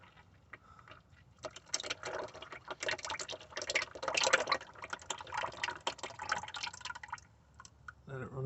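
Engine oil drains from a car's sump, trickling and dripping steadily for several seconds, a wet splattering stream that swells and fades, with some background noise underneath.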